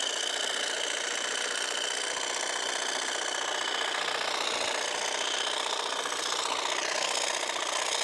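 A GLORIA FineCut 18V cordless lawn edge trimmer cuts grass along a lawn edge on a grassy slope, a steady close buzzing whir that runs without a break and rises slightly near the end.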